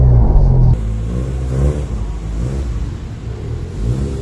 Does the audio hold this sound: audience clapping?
no